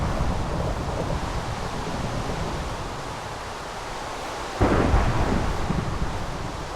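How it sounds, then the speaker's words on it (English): A thunderstorm in the video game Minecraft rumbles with heavy rain and wind, then a sudden loud thunderclap bursts in near the end and rolls on without any voice. "Jeez, thunderstorm."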